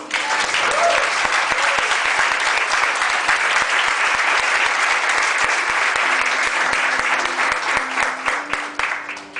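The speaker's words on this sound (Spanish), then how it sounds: "Den un aplauso al Señor." A church congregation applauds in a sustained, dense burst of clapping that stays loud and even before thinning slightly near the end, with faint voices beneath.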